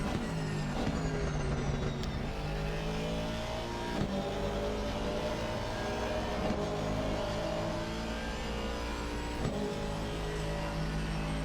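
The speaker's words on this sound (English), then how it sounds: "The upshifts where you have the little pop of the exhaust." Aston Martin GT3 car in a racing video game at Watkins Glen, its engine revving hard and climbing through gears with sharp exhaust pops on each upshift, loud and continuous throughout.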